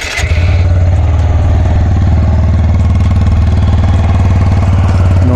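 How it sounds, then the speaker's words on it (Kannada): A 2025 TVS Apache 160 2V motorcycle idles in neutral, its exhaust giving a close, loud, steady low thrum with a fast even pulse right after starting, no talking. "ಇನ್ನು ಈ ಅಪಾಚೆ 160 ಎಕ್ಸಾಸ್ಟ್ ನೋಟ್ ಯಾವ ರೀತಿ ಇದೆ ಚೆಕ್ಔಟ್ ಮಾಡೋಣ."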